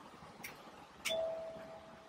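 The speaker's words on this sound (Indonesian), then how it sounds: "Oke, saya bel ya." A doorbell rings out once at a residence door, a single clear electronic chime, moderately loud against low background noise with no talking.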